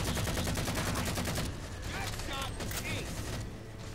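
Rapid automatic gunfire in the video game Halo 4, a dense continuous rattle of shots over mechanical weapon noise for a few seconds, then thinner bursts and clanks.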